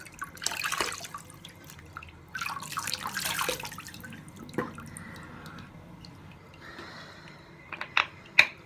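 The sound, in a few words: filling the sink with water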